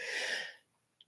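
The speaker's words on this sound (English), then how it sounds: "I only sneeze when I'm on camera here." A single sharp sneeze from a man bursts out loud and close, then fades quickly into quiet.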